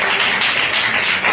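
Audience applause at a public gathering in Meerut, dense steady clapping from many hands, loud and continuous throughout.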